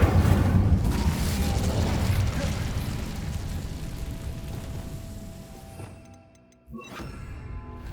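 An Incendio fire spell cast in Hogwarts Legacy: a loud, roaring burst of flame that slowly dies away over several seconds, then a short sharp impact near the end.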